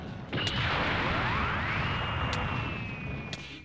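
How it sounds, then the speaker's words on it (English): Big Bang energy attack blast from Vegeta in Dragonball Minecraft, a loud sustained roaring burst with a sweeping rising whoosh that stays strong before tapering slightly, with sharp impact cracks at the start and near the end. "Big Bang attack!"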